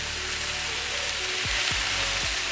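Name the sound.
vegetables sizzling on the hot side of an Aga cooker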